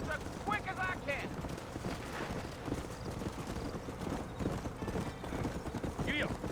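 A horse gallops in the Western video game Red Dead Redemption, with steady rapid hoofbeats throughout and brief neighs, under game dialogue and someone talking over the gameplay.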